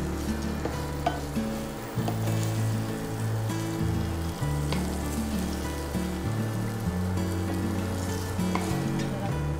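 Food fries in a pan, giving a continuous close sizzle with stirring and scraping clatter throughout, alongside a steady tonal hum in the background.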